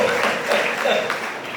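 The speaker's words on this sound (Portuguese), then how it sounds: "Só de palmas aqui para o nosso irmãozão aí" A church congregation applauds, a steady wash of clapping heard together with a voice speaking over it.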